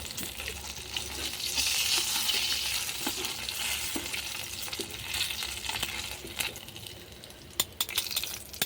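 Chicken pieces fry in oil over a clay stove, a steady crackling sizzle with occasional utensil clinks and light scraping, a few sharper taps near the end.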